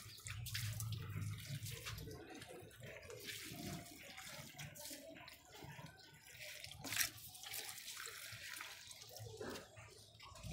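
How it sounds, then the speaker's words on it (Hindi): Tap water running into a container as it is filled at home, a continuous splashing wash of water with small gurgles and clatter, fairly close and moderate in level, with no speech. "गाइस मैंने थोड़ा सा ही पानी भरा था, अब और पानी भर देती हूँ"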